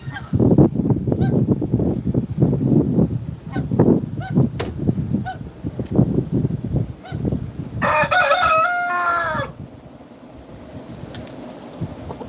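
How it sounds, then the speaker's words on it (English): A young rooster crows once loudly and close by, a strained rising-then-falling call lasting about two seconds, after a stretch of low honking goose calls and bird chatter. "He's a juvenile rooster"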